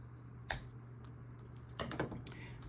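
Card stock is trimmed on a paper trimmer for a handmade note card: a crisp click, a short pause, then a quick scraping slide of the blade, all quiet and close.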